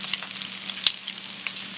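Shrimp with peas and carrots frying for shrimp fried rice give off a steady close sizzle with scattered crackles and a few sharp pops.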